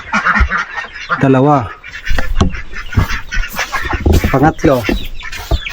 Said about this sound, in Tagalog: Yan yung mga naglilimlim na manok.